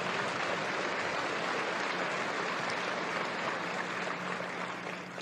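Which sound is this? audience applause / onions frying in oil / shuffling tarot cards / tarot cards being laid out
audience applause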